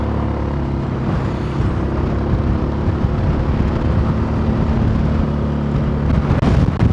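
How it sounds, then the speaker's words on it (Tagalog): Strong typhoon wind roars across the microphone during a Zontes 400G motorcycle ride, a loud, steady, rumbling buffet that holds for the whole stretch with no voices over it. "Ala, napahinto tayo sa sobrang lakas ng hangin."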